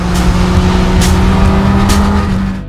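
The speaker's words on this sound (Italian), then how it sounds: "spalanchiamo il gas e tiriamo le marce sempre al limite" A Honda CBR1000RR Fireblade SP superbike screams at full throttle on a racetrack, a loud, close, sustained high-revving engine note with brief surges as gears are pulled to the limit.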